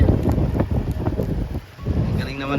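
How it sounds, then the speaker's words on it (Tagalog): Cold wind gusting across a car campsite at Marilaque Camp in Tanay, Rizal, where tilapia is being grilled, rumbling steadily against the microphone with voices talking underneath. "Uy, ang lamig ng hangin."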